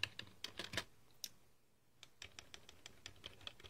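Keystrokes on a computer keyboard, quiet and close, coming in quick bursts of clicks with a brief pause in the middle before typing resumes.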